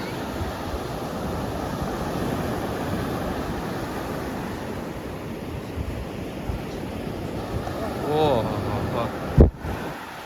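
Sea waves wash constantly around a small fishing boat out at sea, a broad rushing roar mixed with wind buffeting the microphone, with a brief sharp knock near the end.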